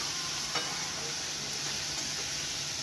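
Onion sautéing in a pan on the stove, a steady soft sizzle with faint stirring scrapes, low and even throughout with no one speaking.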